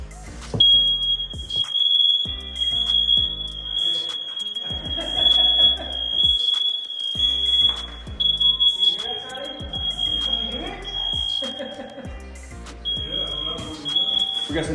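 A shrill, continuous alarm tone sounds loudly for several seconds, briefly cutting out near the end, while people talk over it.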